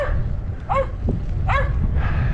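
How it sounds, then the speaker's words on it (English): Two dogs bark sharply, a pair of distinct yappy barks in the middle distance over low background rumble. "so that's why I don't like to hear that barking"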